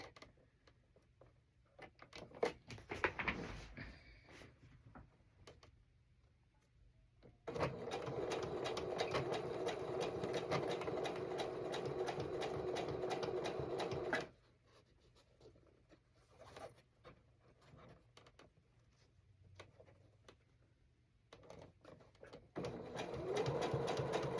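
A sewing machine stitches a zippered fabric pouch in a steady, fast mechanical whir that runs in two long bursts, with softer handling and ticking sounds during the pauses.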